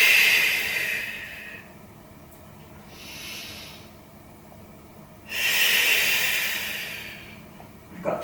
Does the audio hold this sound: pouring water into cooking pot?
no